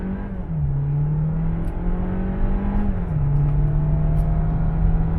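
A 2019 Volkswagen Jetta in Sport mode accelerates at full throttle, heard from inside as a loud, steady engine drone that climbs in pitch and drops at each upshift, with two gear changes.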